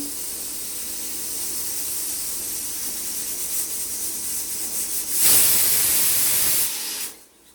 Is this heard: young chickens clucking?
no